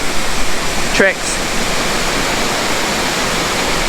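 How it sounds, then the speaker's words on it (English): The Tad Lo waterfall rushes steadily, a loud, constant broadband wash throughout, briefly overlaid by a short chirping bird call near the start while someone speaks a word. "Loband waterfall, there are many ways to enjoy the waterfall."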